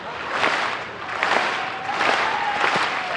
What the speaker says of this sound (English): Philly has the crowd clapping